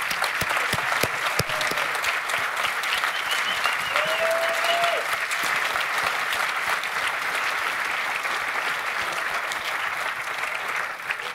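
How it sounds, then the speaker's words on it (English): Audience applause at a keynote awards ceremony, a sustained dense wash of many hands clapping in a large room at a steady level, with a few sharper claps early on. "We'd love to give you a round of applause."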